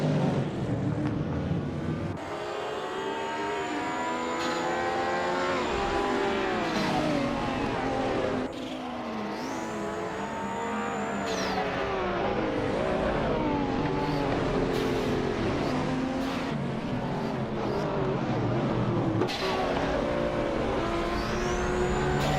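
Race cars in a video game roar continuously at close range, engine pitch rising and falling through gear shifts as the pack jostles for position, with no speech.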